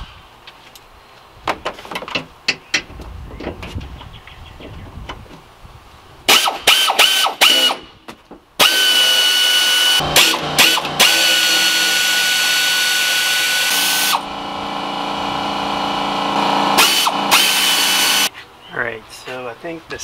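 Power tool with a socket removing seat bolts inside a van, sounding as several short bursts and then long sustained whirring runs close by, with brief pauses between runs.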